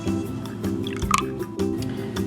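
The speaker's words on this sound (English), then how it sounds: "pour your vinegar and your milk into a bowl" Vinegar and milk are poured together into a bowl, a short liquid pour with splashing drips and trickles, close to the microphone and without talk.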